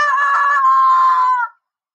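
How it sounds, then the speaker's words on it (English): A rooster gives a single loud, close crow lasting about a second and a half, then cuts off into silence, with no voices around it. "This is a rooster."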